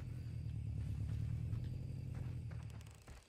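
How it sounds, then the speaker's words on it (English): A car engine idles in a video game, a low steady rumble that stays constant and fairly quiet throughout, with faint scrapes and small clicks over the top and no talking. "Someone just left a car running."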